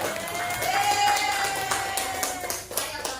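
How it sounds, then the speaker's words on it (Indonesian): An audience at an inclusive-education dissemination session at a high school claps for a presenter, a steady patter of hand claps from a modest crowd with a faint tone held beneath. "Beri aplaus untuk Pak Ivan, luar biasa ya."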